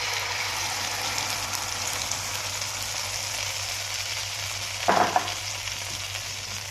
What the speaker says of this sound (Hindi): अब हम इसमें डालेंगे अपना दाल और दूध का जो हमने मेज़ा बनाया था ना वो सारा इसमें शामिल कर देंगे।